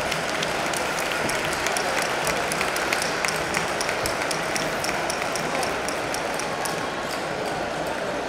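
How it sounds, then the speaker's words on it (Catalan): Steady applause from a large crowd at a winter festival celebration honouring local associations and organisations, a dense continuous clatter of hands with scattered sharp claps standing out, sustained for the whole stretch. "fort d'aplaudiment per a totes les associacions i entitats que col·laboren en la nostra festa"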